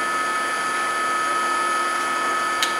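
A power tool hogs away wood in a steady, loud, continuous whine and hum close to the mic, with a brief tick near the end.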